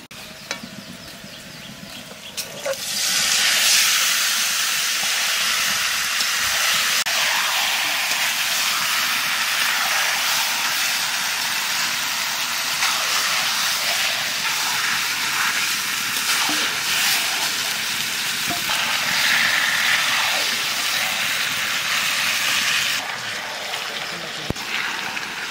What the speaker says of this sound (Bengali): মশলার সাথে মাছটা ভালো করে কষাই নিছি